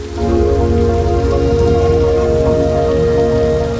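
Heavy rain pours steadily at Cox's Bazar beach in a dense, loud hiss of drops hitting surfaces, unbroken from start to finish with no voices.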